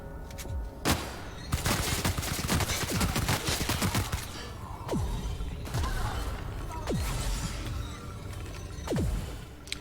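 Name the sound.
gunfire from enemies in the video game The Outer Worlds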